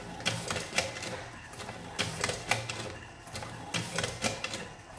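A homemade tobacco cigarette rolling machine runs with rapid, repetitive mechanical clacking in bursts, a busy rattling rhythm heard up close, like a typewriter working steadily.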